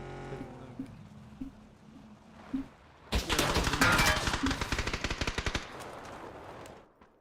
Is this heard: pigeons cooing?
no